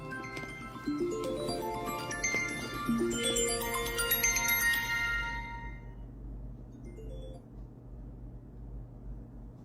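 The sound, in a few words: phone ringtone, incoming call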